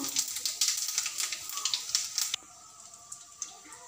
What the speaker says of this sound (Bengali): তেলটা গরম হয়ে গেলে দুটো তেজপাতা দিয়ে দেব একটা শুকনো লঙ্কা দিয়ে দেব গোটা জিরে দিয়ে দেব